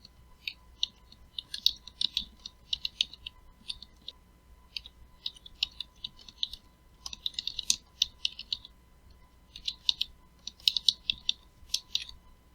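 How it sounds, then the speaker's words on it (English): Close, light keystrokes on a computer keyboard come in uneven bursts and short pauses as a line of dialogue is typed. The quiet clicking is heard alone. "I'm going to type that in as well up here."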